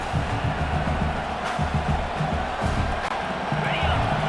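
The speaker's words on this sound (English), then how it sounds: "this crowd is turning it up a notch" A stadium crowd in the EA Sports College Football 26 video game roars and cheers on a football play, a dense sustained rumble with rhythmic swells, mixed with game sound effects.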